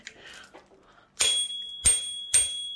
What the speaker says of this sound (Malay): Eh, ini dia punya loceng tau.